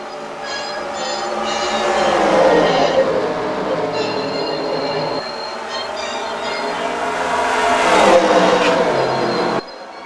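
Race cars accelerate at the start of a Piston Cup race in the Cars video game, a loud, rising chorus of engine whine swelling twice and then cutting off abruptly.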